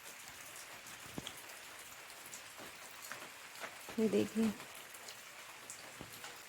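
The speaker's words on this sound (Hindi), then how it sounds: "तो हमारी तरफ हो रही है बारिश" Steady rain falls outside in a soft, even patter, heard faintly while someone speaks a single word over it.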